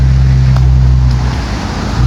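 Boat ride across open water, with a steady low motor drone and the wash of waves against the hull, plus wind buffeting the microphone throughout.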